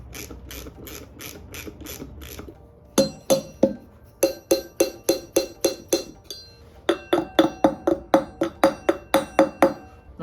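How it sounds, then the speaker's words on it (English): Metal parts clink and ratchet while a sprocket is installed on a minibike wheel: quick bursts of sharp ratcheting clicks in several rapid runs, close and fairly loud, with no talking. "So now I'm going to install the sprocket."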